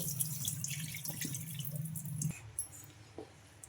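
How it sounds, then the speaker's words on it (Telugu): Water trickles and drips as it is poured off soaked lentils, a light splashing stream that fades into scattered drips near the end. "ఇలా వాటర్ అన్నీ వంపేసుకొని"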